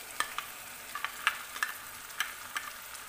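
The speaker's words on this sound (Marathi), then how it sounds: "आणि ही पेस्ट घालून हे छान परतून घ्यायचं आहे थोडा वेळ" A paste of whole spices, tomato, ginger, garlic and cashew fries with onion in a pan, a soft low sizzle broken by light scattered crackles and scraping stirs, with no talk.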